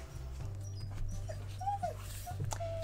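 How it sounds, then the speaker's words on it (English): Husky dog whining indoors, a few thin high-pitched whimpers and rising-falling whines over a faint low hum, fairly close and soft. "You can hear our husky whining."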